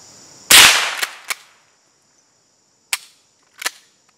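A .22 gallery gun fired outdoors: one loud, sharp crack followed by a quick trailing echo and a smaller pop, then two more fainter shots spaced a second or two apart, against a quiet background.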